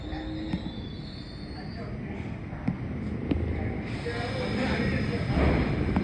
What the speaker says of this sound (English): the train just came